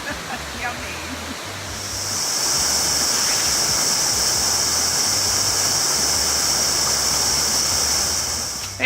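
A waterfall in Griggs Gulf State Forest, Cortland County, gives a steady broadband rushing that swells after a quiet start and holds evenly, fairly close.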